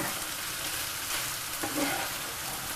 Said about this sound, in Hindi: अब इनको 2 या 5 मिनट तक आप इसी तरह से भूनते रहें